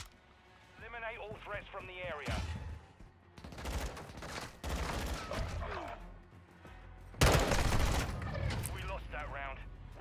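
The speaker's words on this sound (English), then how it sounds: "Now we have an amazing experience of gunfight." Gunfire in Modern Warfare 2 multiplayer comes in repeated bursts of rapid shots, loud and close, with breaks between them and voices talking over parts of the fighting.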